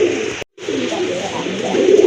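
A red gorra pigeon, an active male, cooing in low rolling notes up close, broken by a short gap.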